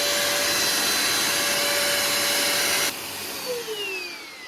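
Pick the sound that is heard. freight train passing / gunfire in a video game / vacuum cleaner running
vacuum cleaner running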